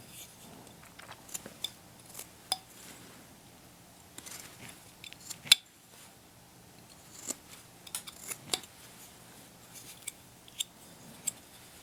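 Flexcut Pro knife carving wood, soft close-up cuts and scrapes in short irregular bursts over a quiet background.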